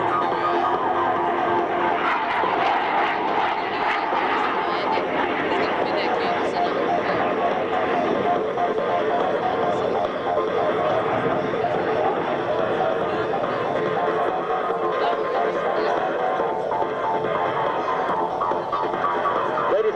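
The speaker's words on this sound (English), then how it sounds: "Watch now as Miser sets up for the 30 inverted pass, and if you look closely, you will notice that the landing gear is down and the hook is extended." A CF-18 fighter jet roars steadily overhead through a low inverted pass at an airshow, landing gear down and hook extended, a loud continuous engine drone filling the whole stretch under crowd noise and a commentator's voice.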